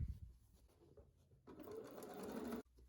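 Sewing machine attaching binding to a quilt, with a few soft handling sounds and then a close, steady whirring burst of stitching that stops abruptly.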